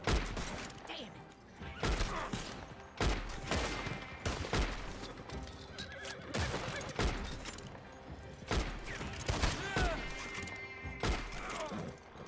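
Gunfire in Red Dead Online cracks out as a rapid series of loud shots in bursts, mixed with impacts and crashes, while voices talk over the shooting.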